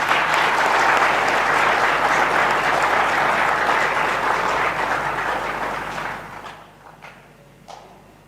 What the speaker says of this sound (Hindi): खुशी हो तो थोड़ी अच्छी ताली बजाइए।